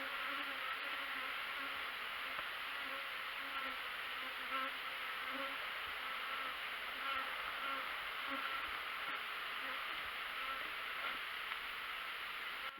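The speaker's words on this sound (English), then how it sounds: "These are Southern bees." Honey bees buzz in a dense, steady drone close by, a continuous hum with faint individual wingbeats threading through it.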